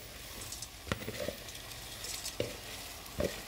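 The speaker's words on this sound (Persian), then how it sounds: "مواد رو با هم دیگه تفت میدیم." Ingredients for maqluba sautéed together in a pan, with a soft continuous sizzle and a few distinct scraping strokes of a spoon stirring, close and fairly quiet.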